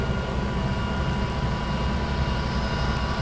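An Air India Boeing 707-437 jet taxiing in 1961: a steady, continuous engine roar and whine at constant loudness, with no talk over it.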